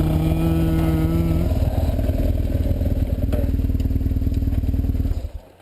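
A BMW F800GS motorcycle with a lowered final drive rides off-road at low throttle, its engine thrumming steadily and close with a pulsing, clattering beat before cutting off sharply near the end.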